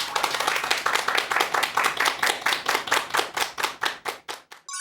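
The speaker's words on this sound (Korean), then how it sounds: "큰 박수 부탁드립니다." A lecture audience claps steadily for about five seconds, a dense, even wave of many hands that tapers off at the end, with no talking over it.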